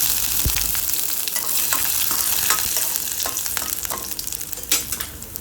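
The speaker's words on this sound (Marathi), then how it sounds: "आता या स्टेजला आपल्याला यामध्ये सुरुवातीला लसूण घालायचं आहे" Garlic tossed into hot oil with freshly fried raw peanuts, a continuous bright frying crackle with scattered sharp pops and occasional utensil knocks, close and steady, no voices.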